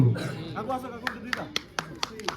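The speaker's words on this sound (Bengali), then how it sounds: "হাততালি দাও, হাততালি।" Several sharp claps ring out in a sparse, uneven series under ongoing speech at a Republic Day gathering honouring a resident, a few hands applauding rather than a full crowd.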